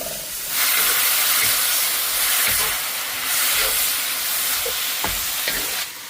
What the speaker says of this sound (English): Let that cook and bubble and saute until it evaporates slightly.